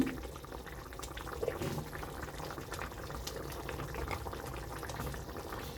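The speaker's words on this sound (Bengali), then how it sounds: "টকবক করে ফুটে এই রসে সিক্ত হয়ে ওঠে বড়াটা" Green banana kofta curry bubbling in a pot, a soft continuous simmering burble with small pops, fairly quiet and steady throughout, with no talking.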